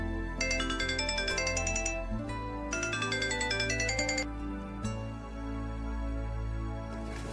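A mobile phone rings with a repeating electronic ringtone melody in a quiet restaurant at bill-paying time, loud and close, playing in two bursts with background tones between.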